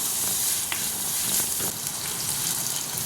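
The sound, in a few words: sautéing shallots, crushed garlic and curry leaves in a pan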